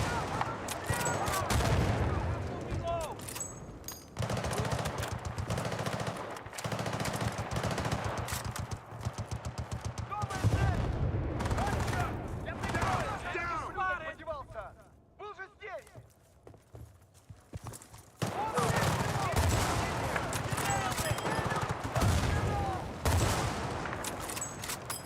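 Gunfire from the Battlefield 6 multiplayer video game, with bursts and rapid volleys of shots spread across the clip and a quieter lull midway, layered with mixed game sounds and talk.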